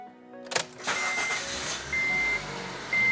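A car engine starts with a sharp crank burst, then settles into a quiet running hum, with a couple of thin electronic tones from a dash cam beeping over it.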